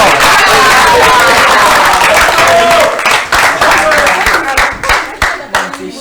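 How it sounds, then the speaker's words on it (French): Loud crowd applause at a live French show honoring a best player, dense clapping at first that thins into scattered, uneven claps by the end. "On l'applaudit encore très fort"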